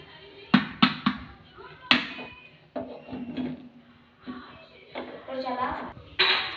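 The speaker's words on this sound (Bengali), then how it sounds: "দেখুন তাওয়াটা বসে নিলাম গ্যাসটা অন করবো" A metal tawa griddle is set down on a gas stove in a home kitchen, giving several sharp clanks and knocks amid other clattering, with someone talking over it.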